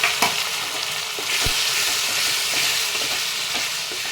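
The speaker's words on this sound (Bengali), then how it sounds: "এবার আমি মশলাটা ভালো করে কষিয়ে নেব" A ground onion and tomato masala paste fries in a pan for a taro and egg curry, with a continuous close sizzle and occasional spoon scrapes and knocks; nobody talks.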